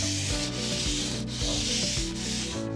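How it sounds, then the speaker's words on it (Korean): Sandpaper is rubbed lightly back and forth over a painted wooden surface on a Korean hanok, making a steady, close, continuous scratchy hiss with a faint rhythmic pulse at each stroke. "사포로 도장면 전반을 문질러 주는 샌딩 작업을 해야 합니다."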